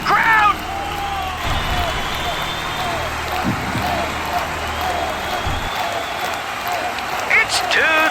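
Crowd cheering and applauding at the EVO Japan 2025 fighting game finals in Tokyo, a loud sustained roar of a large audience with excited voices and a commentator talking over it.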